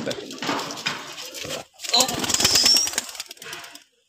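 Pigeons coo at a racing pigeon loft belonging to a Savar club member, soft throaty calls mixed with shuffling and a brief high whistle, close by, with a person talking over them.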